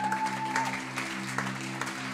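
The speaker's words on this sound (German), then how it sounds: "lass uns Gott einen riesen Applaus geben." A church congregation applauds at a worship service, steady clapping across the room with sustained musical tones from a keyboard underneath.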